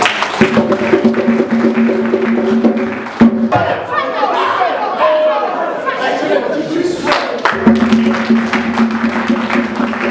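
A church congregation at a Saturday deliverance service clapping and cheering together, loud and dense, with steady crowd noise and voices throughout and a brief drop midway.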